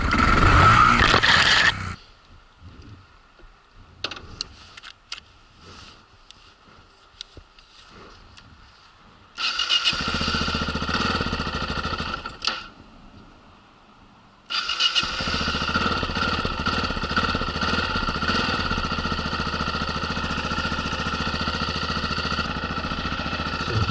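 A motorcycle ridden across a sandy patch on a New Zealand route near Fox Glacier, its engine roaring loudly at first, dropping away to faint rustles, then returning in two long, steady droning stretches.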